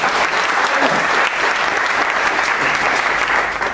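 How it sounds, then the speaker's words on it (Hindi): Loud, dense audience applause at a comedy stage show in Hindi, a steady wall of clapping from a large crowd that runs for the whole stretch without a break and with no talk over it. "अगर मुझे तसल्ली से खाना तो एक बार 2 जोरदार तालियां बजा दो।"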